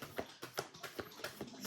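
A tarot card deck is shuffled by hand in a quiet room, a soft, faint run of rhythmic riffling taps, about seven evenly spaced bursts, close to the microphone with no voices.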